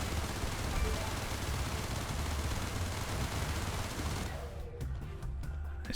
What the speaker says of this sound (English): It's quite nice how they break up as well as you're shooting at them.